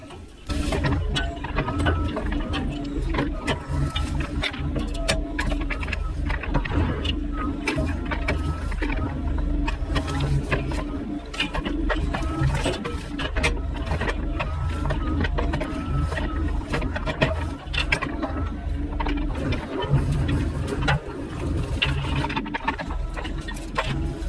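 A machine with a blade cutting a new trail through heavy vines and filling holes in dirt left by pulled stumps, a steady, loud mechanical engine drone with rattling and grinding running continuously throughout.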